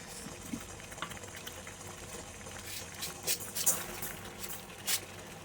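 Water for balushahi sugar syrup boils in a pot, giving a steady bubbling hiss with a few louder pops and splashes.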